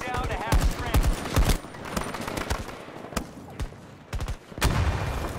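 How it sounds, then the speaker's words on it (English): Gunfire in the video game Battlefield 2042, with rapid automatic bursts and sharp single shots cracking close and loud at irregular intervals, mixed with booms. "He's shooting at you."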